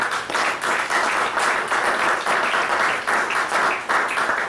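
A church congregation bursts into sustained applause, dense continuous clapping from many hands filling the space at a steady loud level throughout.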